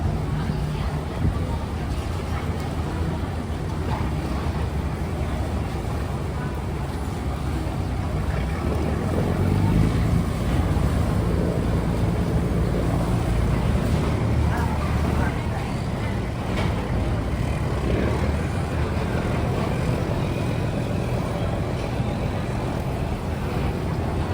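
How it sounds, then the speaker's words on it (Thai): A river ferry from Tha Phra Chan pier pulls in to dock, giving a steady, fairly loud low engine drone mixed with churning water and busy pier noise that continues without a break. "อันนี้คือเรือข้ามฟากที่มาจากท่าพระจันทร์นะ"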